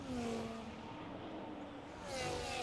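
Ferrari Formula 1 car engine in a racing video game, a steady high-pitched whine holding pace in a straight line, then swelling slightly louder toward the end, with no talk.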